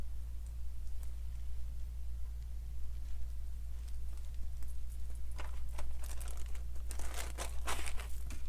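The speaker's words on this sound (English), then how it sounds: "So I'm going to use some double-sided tape again." Double-sided tape is peeled and pressed along folded fabric edges while sewing a sling pack, giving soft crinkles at first and then a cluster of sharper crackling rustles, over a steady low electrical hum.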